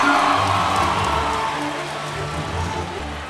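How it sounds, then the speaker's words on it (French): Audience at a graduation ceremony clapping for an honoured graduate, dense sustained applause from a large crowd, steady and loud across the whole stretch. "Est-ce qu'on peut l'applaudir?"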